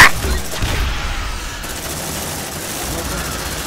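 Gunfire in the video game Aliens: Dark Descent, a dense burst at the start fading into a continuous rattling, hissing barrage that runs throughout, loud and close.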